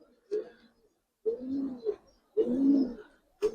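Giribaz pigeons coo in three or four soft, low, rolling phrases separated by short silences, heard up close.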